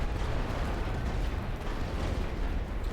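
Continuous heavy artillery barrage from the World War I strategy game The Great War: Western Front, a dense rumbling wall of distant booms and blasts rolling on without pause.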